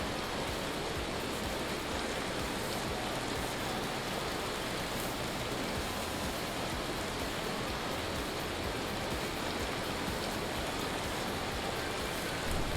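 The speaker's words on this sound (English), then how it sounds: "Well, the hail doesn't seem to be hurting me anymore." Dense, steady hail storm in the survival game Vintage Story, a loud continuous hiss of pelting ice over the whole stretch with no break and no voices.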